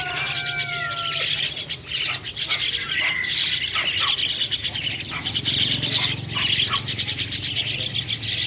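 Black myna calling inside a bird shop, bright chattering and whistled notes mixed with other birds and animal squeals over steady background din, with a voice faintly audible.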